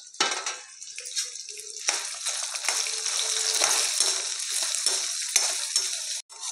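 Dried red chillies frying in oil for Andhra gongura chutney hiss and crackle in a continuous sizzle, with occasional stirring scrapes against the pan and no voices.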